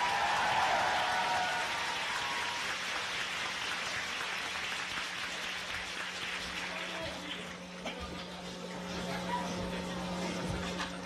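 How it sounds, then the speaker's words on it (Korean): An audience claps in a steady, dense wash of applause welcoming a political candidate onto the stage for a talk in Incheon, sustained and fairly loud throughout with a faint hum beneath. "큰 박수 부탁드립니다"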